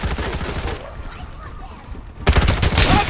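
Bursts of gunfire in the mobile shooter Farlight 84, loud rapid volleys that break off and then resume, with a game voice announcing in between.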